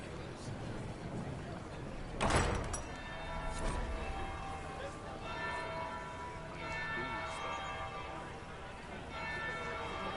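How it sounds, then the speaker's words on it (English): Church bell tolling in the Dragon Age Inquisition video game, one loud stroke ringing out over a steady background bed with sustained tones, with further fainter bell strokes following. "Third bell."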